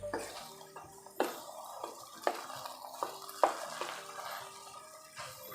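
A spoon scrapes and stirs a thick potato filling mixed with tamarind pulp and binding powder for vegetable frankie, giving a few soft wet clacks against the bowl at an irregular rhythm, close and fairly quiet, with no talk.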